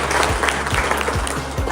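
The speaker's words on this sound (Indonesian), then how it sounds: "Ini tepuk tangan untuk Pak Gubernur." Audience applause at an official agriculture event in Yogyakarta (DIY), Indonesia, honoring the governor: a dense, steady patter of many hands clapping, moderately loud and continuous throughout.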